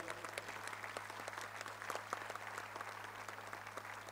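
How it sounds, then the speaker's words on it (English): An audience claps steadily for a Swami, dense applause held at an even level for the whole stretch with no voices over it, beneath a constant low electrical hum. "I request everybody to stand up and give him a big clap"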